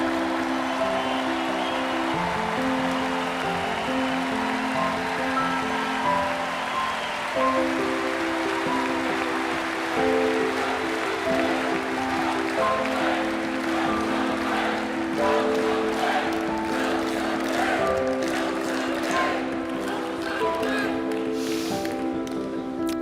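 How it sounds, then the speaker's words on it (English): An audience cheers and applauds through a Trump television tribute special, a steady, moderately loud wash of clapping and crowd noise sustained throughout, with music-like tones layered underneath. "it is so nice to hear you cheering for what I just said"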